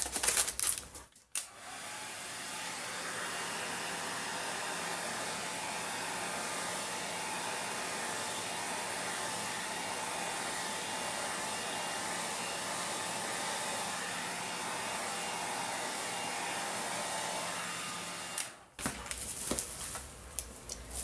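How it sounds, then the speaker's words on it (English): A weak hair dryer blows steadily over an acrylic Dutch pour, a continuous close whooshing airflow lasting most of the stretch, starting and stopping abruptly with faint handling noises around it. "My hairdryer is not very strong, so the paint under it eventually didn't move really a lot."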